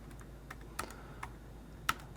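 Computer keyboard typing while entering a search, a few faint, sparse key clicks with a couple of sharper taps, quiet and close with no talking.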